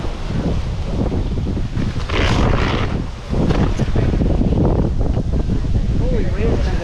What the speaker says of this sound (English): Holy wind today.